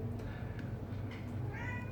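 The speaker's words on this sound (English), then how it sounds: "we have a cat as well." A house cat meows a few short times, soft and fairly close, in a quiet indoor room.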